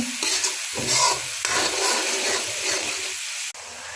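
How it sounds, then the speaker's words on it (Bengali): Onion paste frying and being stirred in a pan until light brown, a loud continuous sizzle with scraping stirring strokes that rise and fall, then a sudden drop near the end. "এখন পেঁয়াজ বাটা দিয়া হালকা ব্রাউন করে লইব।"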